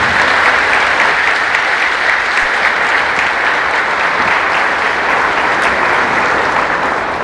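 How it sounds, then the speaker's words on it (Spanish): A church congregation gives loud, sustained applause to Jesus during a Spanish-language Catholic service, a dense, even wash of clapping from many hands that holds steady for the full stretch. "Fuertes aplausos al Señor Jesús."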